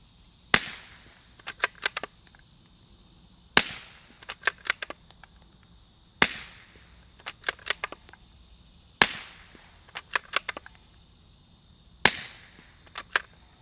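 Five muffled, sharp gunshot cracks from a suppressed Echo Zulu Defense Atom 22 Lite .22 rifle, spaced evenly a few seconds apart, each followed by faint metallic clicks of the action cycling, with quiet pauses between.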